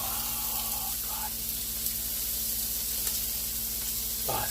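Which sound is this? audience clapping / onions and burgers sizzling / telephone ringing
onions and burgers sizzling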